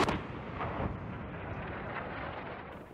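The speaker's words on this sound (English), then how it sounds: "proceeds to deploy a barrage of bombs, rockets, and missiles until the target is completely nullified" An A-10 close air support aircraft unloads a barrage of bombs, rockets and missiles on ground targets, heard as a dense, sustained roar of booming fire that stays loud and continuous for the whole few seconds.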